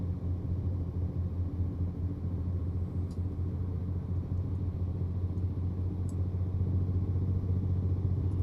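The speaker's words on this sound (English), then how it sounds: "Bit of motor brake there." A truck engine brake engaged on a steep grade in American Truck Simulator on an icy Alaskan highway, a steady deep low rumble droning continuously and loudly throughout, with faint clicks above it.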